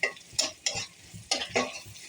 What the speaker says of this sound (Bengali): পেঁয়াজটা ভালোভাবে ভেজে